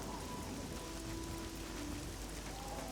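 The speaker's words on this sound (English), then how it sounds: "this rain is sort of acting as a shower" Rain falls in the video game Oblivion, a dense steady hiss of drops spread evenly throughout, with faint tonal background music underneath and no talking.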